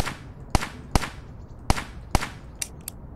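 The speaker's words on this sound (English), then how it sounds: "when it's empty, it's going to play a clipping sound" An emptied gun in a Unity third-person shooter game gives a few sharp, bright clicks, about five evenly spaced snaps and two softer ones, each crisp and alone against quiet background.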